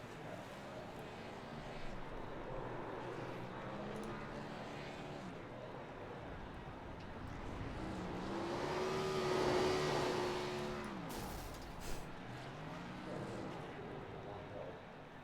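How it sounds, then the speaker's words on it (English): A race car doing burnouts after winning at Daytona in the Spino 250, its engine droning and rising to a strained, revving peak midway before easing off, heard at a distance beneath a commentator's voice. "As he comes in to do his well-deserved burnouts."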